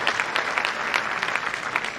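Enthusiastic audience clapping at a formal public gathering, a steady, dense wash of many hands throughout the short stretch, fairly loud and close.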